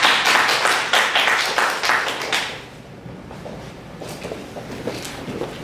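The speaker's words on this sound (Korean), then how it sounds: "우리와 같은 박수 부탁드리겠습니다" An audience claps to welcome a speaker at a citizen consumer forum in Incheon, a lively burst of applause that fades away after a few seconds, leaving quiet room noise with faint taps.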